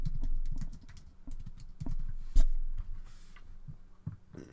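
Keystrokes on a computer keyboard, a loose run of uneven taps with a few harder clacks, close and fairly quiet.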